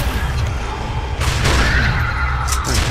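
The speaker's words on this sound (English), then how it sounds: "Gunshots." Gunfire and crashing impacts from the video game Judge Dredd: Dredd vs Death, a few sharp shots and smashes over a dense, continuous game background, loud and close, with no talking.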